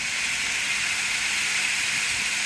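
Vegetables sauté in a smoky hot pan for a quesadilla filling, giving off a steady, close, loud hiss and sizzle with no talking.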